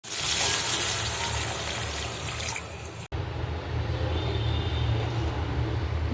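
Tamarind water gushes and splashes steadily for a few seconds, a brief break, then more pouring and trickling continues under a low background rumble.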